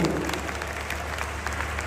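Audience clapping at a mushaira poetry gathering in Barabanki, a brief burst of dense, steady applause from a large crowd heard over a hum.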